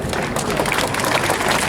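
Audience applause at a Latvian folk costume event in Riga, a dense, continuous burst of many hands clapping close by, filling the whole short moment.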